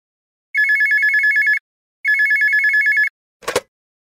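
A telephone rings twice in clean electronic bursts of about a second each, separated by a pause, followed by a brief click as the call is picked up.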